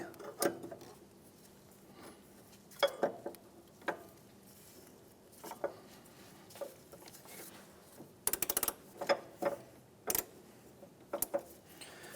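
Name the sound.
19mm socket breaking tensioner pulley bolt free, Honda Element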